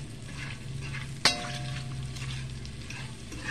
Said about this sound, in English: Gonna let that saute a little bit. Stir it around.